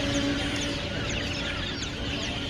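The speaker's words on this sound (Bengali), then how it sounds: "এখানে বাচ্চা মুরগিগুলো দেখতে পারতেছি" Chickens and chicks clucking steadily amid dense, busy market noise at a wholesale poultry market where ducks, chickens, quail and rabbits are sold, with faint calls scattered throughout.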